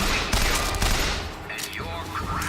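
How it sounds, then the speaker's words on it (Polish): Rapid burst-fire gunfire cracks out in quick clusters in BioShock Infinite, loud and close, with faint background voices and game sounds mixed in. "Burst Fire for the win."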